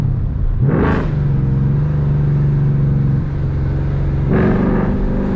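A Whipple-supercharged Ford Mustang in track mode pulls hard under acceleration, its engine note climbing steadily through a loud sustained run, with a sharp rev rise at the start and another surge near the end; close and continuous, no talk.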